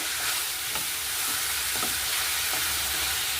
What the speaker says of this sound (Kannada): ಇದನ್ನು ಹೀಗೆ ಮಧ್ಯದಲ್ಲಿ ತಿರುಕೋತಾ ಇರಬೇಕು, ಇಲ್ಲಾಂದರೆ ತಳ ಹತ್ತುತ್ತೆ